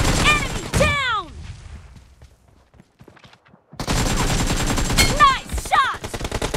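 Loud, close automatic gunfire in the mobile battle royale game BGMI, a dense burst at the start, a brief near-silent gap, then another sustained volley with whistling ricochet-like sweeps.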